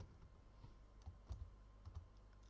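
Quiet typing on a computer keyboard, a few soft, irregular key taps and clicks close by, entering a database command in a MySQL console, with no talking.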